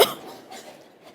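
A single short, sharp cough bursts out close by at the very start, then fades into faint breathy residue and quiet room sound.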